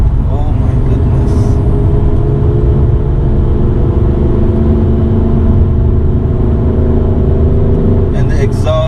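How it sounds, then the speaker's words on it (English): BMW M3 exhaust roaring under hard acceleration, a loud, continuous low engine drone heard from inside the cabin with the windows up, holding steady throughout. "And the exhaust is louder, very louder. You can hear it."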